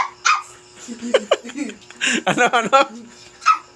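A child imitates a dog, barking in a short burst of yappy voiced woofs, with an adult voice asking a brief question and some giggling around it.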